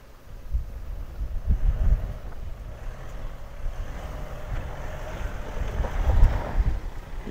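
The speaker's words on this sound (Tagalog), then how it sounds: "Sobrang lakas ng hangin, grabe." Strong wind roars across a mountain trail on Mt. Balagbag, buffeting the microphone in rumbling gusts that swell and fade, with two heavier blasts standing out.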